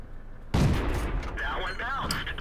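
A tank cannon in World of Tanks fires once with a sharp loud boom. A metallic ringing tail and whistling debris follow, and a voice talks faintly underneath.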